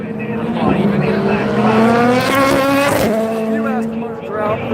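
A pack of GT3 race cars at the Rolex 24 at Daytona rise in pitch as they accelerate at the green flag, with overlapping engine notes sweeping upward close by. Someone talks over the engines.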